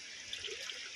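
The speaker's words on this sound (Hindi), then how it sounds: "उधर ऊपर से आ रहा है पानी" Water trickles down from rocks above on a mountain trekking trail in Meghalaya, a soft, steady, hissing dribble heard faintly and alone.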